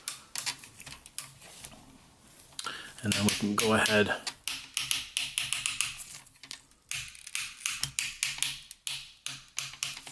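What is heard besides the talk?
Transformers toy joints clicking on the shell wings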